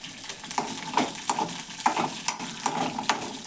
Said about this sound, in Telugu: ఆయిల్ వేసుకుంటే టపటప అయిపోతుంది